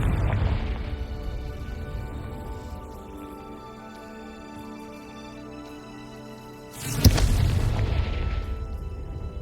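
An explosion spell goes off in the video game Hogwarts Legacy, one sudden loud blast at about seven seconds that rumbles out over a busy game soundtrack and ambience.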